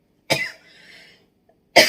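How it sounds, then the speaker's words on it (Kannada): A person coughs in two sharp, close bursts, one near the start and another at the end, with a faint raspy breath trailing between them and no talking. "ಸ್ವಲ್ಪ ಶೀತ ಕೆಮ್ಮಿದೆ ಅಲ್ವಾ"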